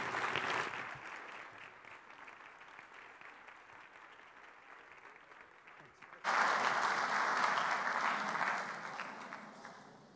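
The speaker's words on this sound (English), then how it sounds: "Let's give Guy Garcia another round of applause." A brief burst of clapping fades out, then a second, louder round of applause from a luncheon audience swells and slowly tapers off.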